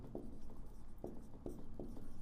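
Chalk or marker strokes scrape across a board in a handful of short, quiet taps and scratches at an uneven rhythm, heard up close in a quiet room during a math lesson.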